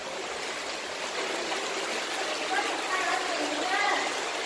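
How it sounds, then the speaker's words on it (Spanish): Clean water flowing down inside a tunnel, a steady hissing rush that stays fairly loud throughout, with faint voices briefly audible under it. "El agua limpia que viene de arriba, no sé dónde viene."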